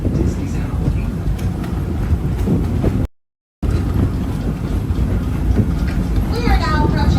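A ride aboard the train at Disney's Animal Kingdom as it approaches Rafiki's Planet Watch: steady loud rumbling and wind noise with a brief dropout midway, while a voice talks over it.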